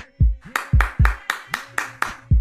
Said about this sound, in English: Who is in there clapping?